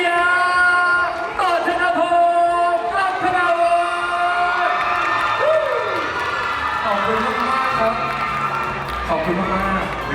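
Crowd cheering and clapping at a Nescafe Day 2023 event, loud and sustained, with whoops and voices layered over continuous applause.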